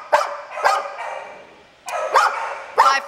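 A three-year-old male dog barks repeatedly in a kennel at an adoption shelter, loud, close yelps in an uneven rhythm with a short pause midway.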